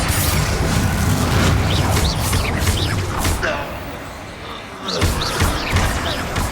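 A Bombarda blasting spell going off in the Hogwarts Legacy video game, a loud booming crash with rumbling debris, set amid dense battle effects and a voice calling out over the combat.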